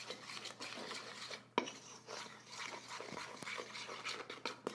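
Dry ingredients for gluten-free chocolate chip pumpkin bread being mixed in a bowl, with a steady scraping and clinking of utensil against the bowl and a sharp knock partway through.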